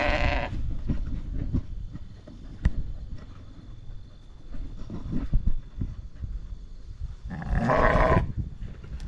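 Sheep in a barn, impatient for grain, bleat loudly in two bursts at the start and near the end, with shuffling hooves and quieter barn noises in between.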